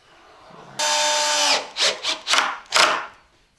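A power drill drives screws into MDF boards during a DIY shelf build, starting with one sustained whirring run, then several short, loud bursts as the screws seat, close by with no talking.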